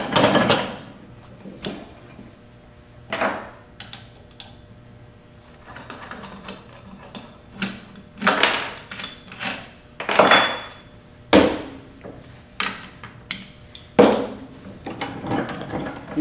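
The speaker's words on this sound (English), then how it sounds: "Now you can disassemble the jig and check your fit." A stock drilling jig is taken apart by hand, giving a series of irregular wooden knocks, rubs, clicks and clattering handling noises, close up and spaced out, with no talking.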